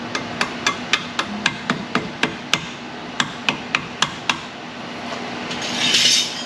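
A hammer taps a shock absorber into place on a 1995 Jeep Wrangler 4.0, about seventeen crisp metallic knocks in a quick steady rhythm with a short pause, then a soft rustle.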